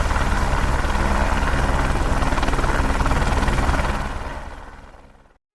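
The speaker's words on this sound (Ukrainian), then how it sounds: "Ви щойно побачили рух першого серійного гелікоптера Р4" A model of the R-4, the first serial-production helicopter, spins its rotor with a loud, steady, rapid chopping whir that holds strong and then fades away near the end.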